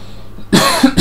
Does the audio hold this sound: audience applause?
no